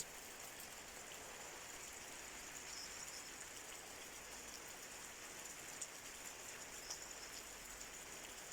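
Heavy downpour in the village of Demirci, a steady dense hiss of rain falling on surfaces, continuous and even throughout with a few faint drips standing out, no voices.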